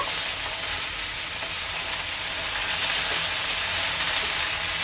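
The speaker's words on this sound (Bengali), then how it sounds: "এখন শাকটা একটু ভেজে নেব।" Jute leaves (pat shak) frying in a pan over low to medium gas, a steady close hiss of sizzling with a couple of soft stirring clicks and no voices.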